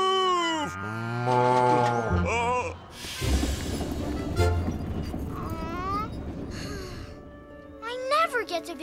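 A cartoon cow moos several times in long, drawn-out calls mixed with animated character voices talking and shouting, plus a brief crash partway through.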